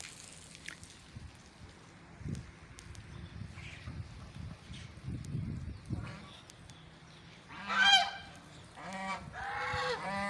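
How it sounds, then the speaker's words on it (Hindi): Outdoor farmyard scene with a loud burst of quacking ducks near the end, over low rumbling background noise and scattered clatter. "ये बतखें तो रहते ही पानी के पास हैं।"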